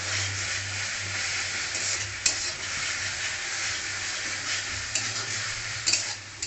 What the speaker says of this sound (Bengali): মশলাটা এখন ভালো করে ভাজে নেব